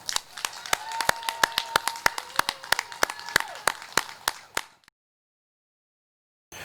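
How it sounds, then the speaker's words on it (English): A small group at a high school graduation claps in a quick, even rhythm for several seconds, then the clapping stops abruptly into silence. "How about a round of applause?"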